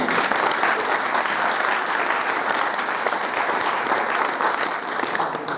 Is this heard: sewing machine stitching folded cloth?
no